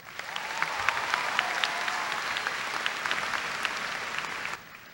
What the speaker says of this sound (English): So class of 2011, please give yourselves a round of applause.